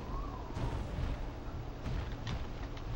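A muffled, low boom of an explosion in the Drakan video game, with rumbling bursts rolling through about three seconds at moderate loudness.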